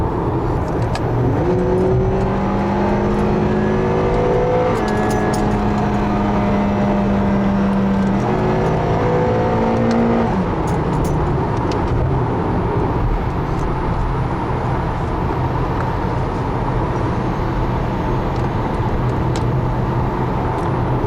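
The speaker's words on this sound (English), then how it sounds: "there is a little bit more road noise than expected in this kind of a car" Steady, loud road noise inside a 2012 Acura TSX sedan on a highway, a constant rumbling roar with K24 engine tones shifting slightly as speed changes.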